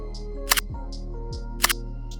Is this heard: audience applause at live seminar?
no